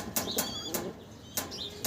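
Several quick bursts of wing flapping from a butterfly pigeon, a fancy breed, close by, with short pauses between flurries and faint chirps.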